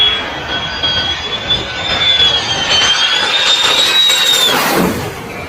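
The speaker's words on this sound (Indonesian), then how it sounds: "Ini ada pesawat." A toy airplane gives off a loud, steady synthetic jet-engine whine with a high sweeping tone that rises slightly before fading, heard alone up close.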